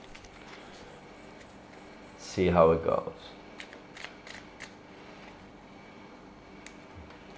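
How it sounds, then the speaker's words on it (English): A deck of tarot cards is shuffled in one brief, close riffling burst lasting under a second, set against a quiet room where a person talks softly before and after. "One more shuffle."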